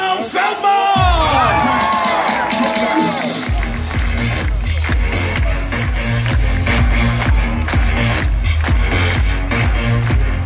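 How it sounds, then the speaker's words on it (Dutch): Crowd at an Ajax open day cheering and applauding loudly and steadily, with a dense roar of voices and whoops filling the scene after a voice over a loudspeaker. "Geef me een grote applaus"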